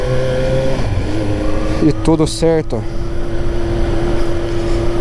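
A Kawasaki Z900 motorcycle engine rumbles steadily nearby after a 6,000 km service, with a brief rising rev midway, while someone talks over it.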